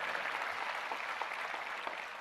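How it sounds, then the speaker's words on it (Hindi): A crowd at an outdoor International Yoga Day gathering in Fatehpur Sikri applauds to welcome minister Mukhtar Abbas Naqvi, a steady, faint, distant wash of clapping throughout. "मैं जोरदार तालियों से चाहूंगा आप लोग उनका स्वागत करें"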